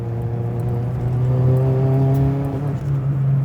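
A modified early-1990s Toyota Starlet Glanza V engine accelerates under throttle, a loud, steady drone whose tone climbs over a few seconds as the revs build, heard from inside the car.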